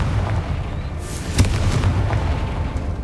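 The Confringo fire spell explodes in Hogwarts Legacy with a loud, booming burst over a dense, rumbling battle din, and a sharp crack stands out in the middle.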